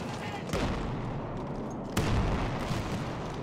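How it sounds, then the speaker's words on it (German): A grenade blast in Battlefield 1 cuts through ongoing gunfire, with two heavy, close bursts landing against a constant roar of battle. "Ich werfe eine Granate!"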